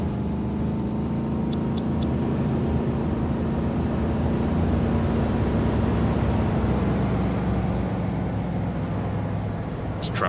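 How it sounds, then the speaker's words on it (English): Heavy trucks rumble through a city in Cities Skylines 2, a steady loud low drone of engines and traffic that holds for the whole stretch, with a few faint clicks near the start and end. "These trucks are really loud."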